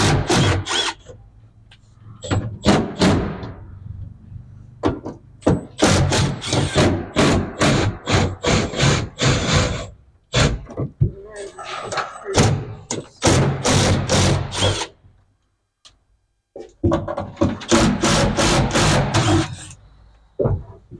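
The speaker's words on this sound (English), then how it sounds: "So we're going to rip a million screws out of here and see what happens" Screw gun backing screws out of a 1968 Chevrolet G20 van, heard as repeated short bursts of whirring with thuds and clatter between them, close by, with some pauses of near silence.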